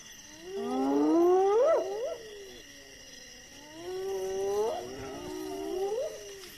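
Hyenas call at a lion kill on the Zambezi floodplain, giving two rising, whooping cries a few seconds apart, close and clear over a steady background of insects.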